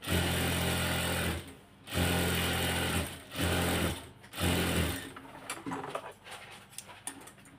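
A sewing machine stitching the leg cuffs of a salwar runs in four close, loud bursts separated by brief pauses, then gives way to light handling clicks.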